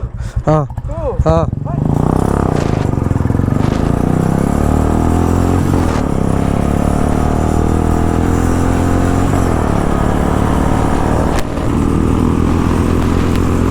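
After a brief voice, a Royal Enfield motorcycle engine idles steadily up close with a deep, thumping rumble that holds evenly for over ten seconds.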